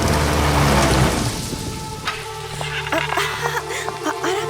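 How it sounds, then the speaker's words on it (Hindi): Heavy rain pours in a scene from a Hindi-dubbed South Indian action comedy film, a dense, loud, steady hiss that eases after a couple of seconds into a softer patter with scattered drips. "चलो चलो, बारिश आ रही है।"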